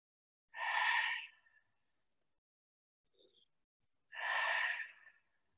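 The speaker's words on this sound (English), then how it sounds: "One more deep breath." Deep yoga breathing during a warm-up flow, two long, clear breaths about three and a half seconds apart with a faint small breath between them, close and soft in otherwise quiet surroundings.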